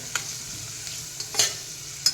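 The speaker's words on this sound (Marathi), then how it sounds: "आता हे पण एखाद दोन मिनटं छान परतून घेऊयात" Broken wheat porridge with vegetables stir-fries in a pan under a soft sizzle, while a spoon scrapes through it in a few sharp, irregular strokes up close.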